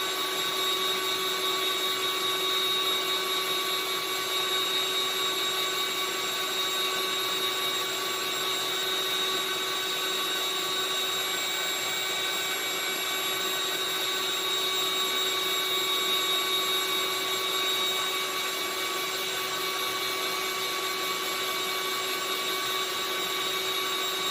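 A hot-air soldering station blows steadily onto a component while a part is reflowed back onto a board, a constant loud whoosh with a whining tonal hum that holds unchanged throughout and has no talking over it.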